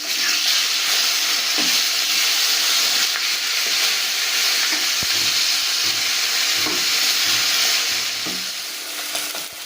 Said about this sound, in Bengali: এবার আমি মাছটাকে উল্টিয়ে অন্য পিঠ ভালো করে ভেজে নেব